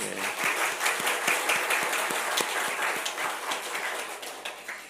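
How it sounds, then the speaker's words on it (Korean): Congregation applauds in church, a dense wash of clapping from many hands with a few sharper individual claps standing out, steady for several seconds before easing slightly. "우리 고마움의 박수 한번 들을까요?"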